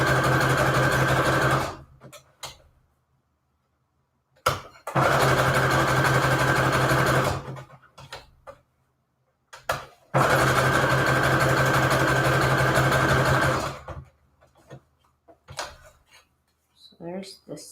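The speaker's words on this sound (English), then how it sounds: "And this one I will sew all the way around." Sewing machine stitching around a floral vintage-ad junk journal embellishment, running in three loud sustained bursts with steady motor hum and rapid needle chatter, separated by short pauses with faint handling sounds.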